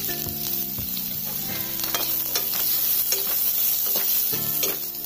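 Chopped onion sizzles in hot oil in a kadhai while being stirred, a steady crackling fry with occasional scraping and clinks, close up and with no talk.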